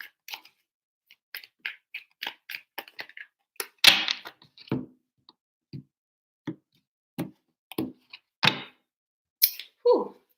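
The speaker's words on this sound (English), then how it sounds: "Three shuffles for Pisces and their person." Tarot cards riffled and shuffled by hand in three bursts, dry papery taps, snaps and thumps scattered in uneven clusters, close and moderately loud with no talking.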